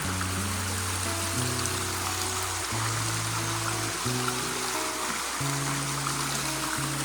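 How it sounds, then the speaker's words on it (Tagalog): A river in Southern Leyte province flows and trickles steadily nearby, a continuous soft gurgling wash with no voices, at moderate volume. "Ah, ito na yung ilog papuntang Pungon."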